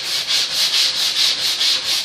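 A Permagrip sanding block is rubbed up and down a wooden edge in steady, rhythmic strokes, a close, loud, even rasping with about seven regular passes and no other sound.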